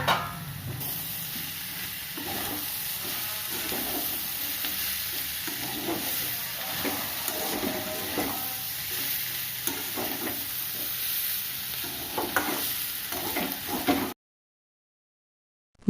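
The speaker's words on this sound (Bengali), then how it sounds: "যে 4টি পেঁয়াজ কুচি কুচি করে কেটে রেখেছিলাম এবার সেই পেঁয়াজগুলো দিয়ে দেব এবং ভালো করে নাড়ব" Four finely chopped onions frying in a pan, a loud steady sizzle with scraping stirring strokes repeating throughout, no voices, ending abruptly in silence near the end.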